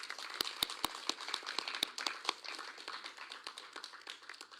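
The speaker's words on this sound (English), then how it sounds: "Let's give him a round of applause." Scattered, fairly faint applause from a small audience at a tourism debate final, individual sharp claps standing out irregularly against a thin patter that thins toward the end.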